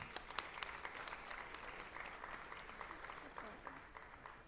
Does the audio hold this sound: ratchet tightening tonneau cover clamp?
no